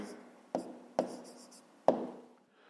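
Pen on paper jotting down the answer to a fifth-grade maths exercise, three sharp taps and short scratchy strokes, close and quiet.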